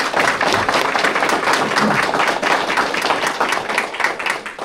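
A crowd claps steadily for several seconds, dense overlapping hand claps at a fairly loud, even level with no voices on top.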